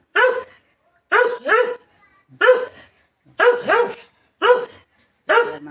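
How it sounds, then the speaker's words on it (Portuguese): A dog barks in short paired bursts at a washing machine when it is switched on, six close, loud volleys separated by brief pauses, with no talk. "a latir por causa da máquina de lavar. Quando eu ligo, ela não para."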